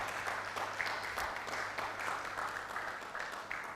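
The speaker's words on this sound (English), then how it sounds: "Another round of applause for my provost" An audience at a lecture-theatre commissioning ceremony for an internet-enabled audiovisual facility gives the provost a continuous wash of applause over a faint steady hum.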